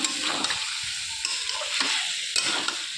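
Mutton stirred with tomato sauce in a frying pan, a close sizzle broken by repeated scraping strokes of the spoon, no voices.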